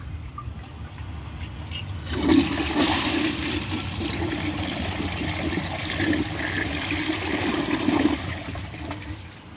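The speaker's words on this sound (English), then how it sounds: "Still flushes perfectly." A Compton toilet flushes after a quiet moment. A loud rushing surge of water starts suddenly, then settles into a steady close gurgle and swirl as the bowl drains and refills, with no talking.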